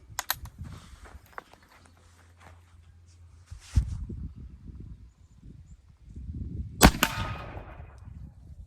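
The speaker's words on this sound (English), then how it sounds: "here's the first shot with our Springfield Model 1842 rifle musket" Springfield Model 1842 rifle musket fired with 70 grains of homemade 1F black powder and a round ball: one sharp, cracking report with a fading tail, preceded by quiet handling and shuffling sounds at a moderate distance.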